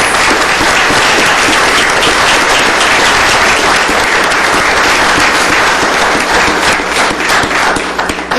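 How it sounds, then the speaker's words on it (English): An audience at a county commissioners court meeting gives students sustained, loud, dense applause that continues steadily throughout. "So a round of applause for these wonderful students."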